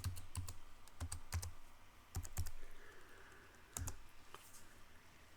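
Someone types a password on a computer keyboard, sounding as quiet, close key clicks in short irregular bursts with pauses between groups of strokes.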